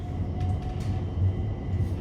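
A London train ride from Shoreditch: a steady low rumble of a moving carriage with faint rattles, continuous and fairly loud, no speech.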